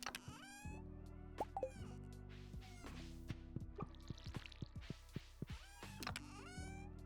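Watering in the cosy farming video game Pokopia, heard as soft, quick drips and bubbly liquid plinks over a steady synthesized tune, all faint and close, with no talk.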